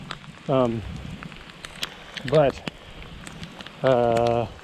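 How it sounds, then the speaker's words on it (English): Steady rain patters in the background while a voice makes a few short sounds over it. "rain's coming down now"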